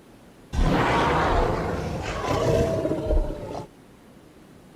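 A Cryolophosaurus dinosaur lets out a deafening roar, a single long rasping bellow that starts abruptly, swells and wavers for about three seconds, then cuts off, loud and alone.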